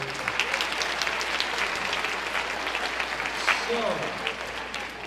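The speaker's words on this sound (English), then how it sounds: "Give yourself a round of applause." An audience at a school freshman acceptance evening claps in a steady, dense round of applause, fairly close and full, while a voice speaks briefly over it.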